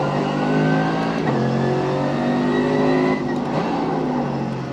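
McLaren Formula 1 car engine screaming at high revs in the iRacing sim, loud and close, with pitch sweeping up through gear changes and steady engine whine throughout.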